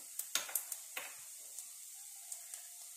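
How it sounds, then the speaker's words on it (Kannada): Chopped garlic hitting hot oil in a pan while cooking a Tulu-style stingray fish gravy, a quiet steady sizzle with small popping crackles scattered through it, close and alone. "ಯಾನಿತ್ತೆ ಬೆಳ್ಳುಳ್ಳಿ ಪಾಡ್ವೆ"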